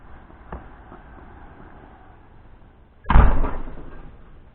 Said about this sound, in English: I better shut this door.